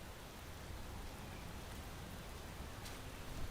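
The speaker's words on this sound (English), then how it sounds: "It sounds like rain." Faint, steady rain pattering on a surface, a soft continuous hiss with no talk or other sounds over it.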